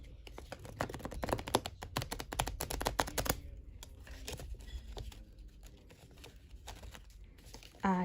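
Tarot cards being shuffled by hand, a fast run of crisp papery riffles and flicks close by, busier at first and then softer and more scattered.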